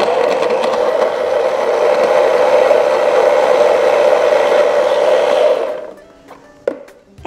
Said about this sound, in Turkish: Blender'da bir 10 saniye geçirerek karışımımı hazır hale getireceğim.